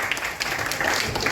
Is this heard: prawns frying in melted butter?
no